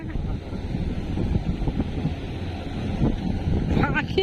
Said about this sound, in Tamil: தண்ணி சவுண்ட் கேட்குதுப்பா